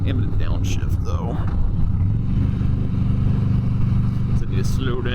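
A 2009 Harley-Davidson Softail Deluxe motorcycle engine rumbles steadily and loud up close, shifting down as it slows, with wind buffeting throughout.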